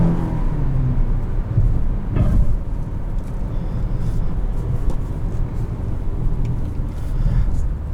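A 2020 Nissan Altima 2.5 SR drives through curves, its engine and road noise a steady low rumble from inside the cabin, with tire hum and brief swells as the car accelerates.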